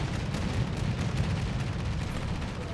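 Naval gunfire from an enemy ship during a World of Warships battle, heard as a dense, rumbling barrage of booming shots that stays loud and unbroken throughout, with no voices.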